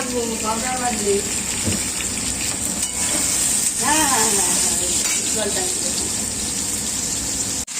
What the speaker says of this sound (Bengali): শাকটা ভাজবো এই ভাজার জন্য বেগুনটা আগে ভেজে তুলে নেবো